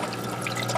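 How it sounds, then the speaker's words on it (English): Water trickling steadily down a small model diorama waterfall after a cleaned reservoir is refilled, a soft continuous splashing and dripping close by with no talk. "See, the water's coming down nice and clean"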